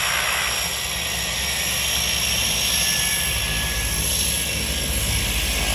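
Aircraft engine drone near a parachute jump site, a steady broadband roar holding at constant loudness throughout, with no voices.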